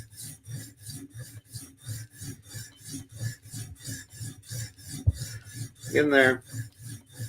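A file is drawn across a blade to sharpen its bevels, making even, repeated rasping strokes about twice a second, close and clear, with a short knock near the end and a brief spoken remark over the strokes.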